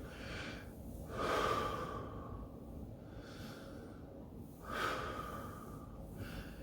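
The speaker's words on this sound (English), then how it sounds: "you can start doing some deep breathing" A person seated during exercise breathes deeply and slowly, with two long audible breaths, each a soft inhale swelling into a breathy exhale, close to the microphone and quiet.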